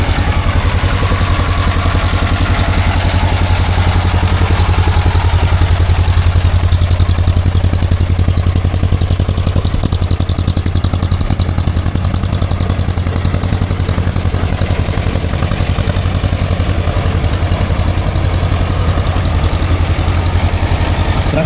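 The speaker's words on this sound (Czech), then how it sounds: "traktorek zelené barvy, který teď vyrazil na převážení výrobku, je taky Škoda HT18" A vintage green Škoda HT18 tractor engine runs steadily at a vintage machinery show, a loud low chugging throb with clattering overtones that holds for about twenty seconds without talk.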